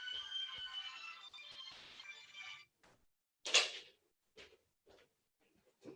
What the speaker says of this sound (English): My phone has been ringing,